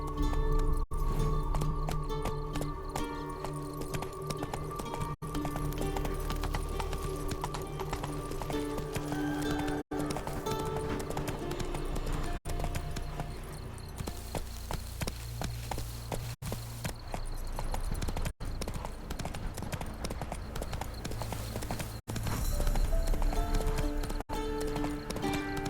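Hooves of a galloping horse in The Witcher 3 clip-clop in a steady, driving rhythm over game music, loud and close for the whole stretch, with an occasional whinny.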